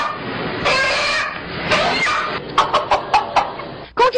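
A rooster cries out shrilly in fright before slaughter, a strained, harsh squawk followed by a run of short, sharp clucking calls, close and loud.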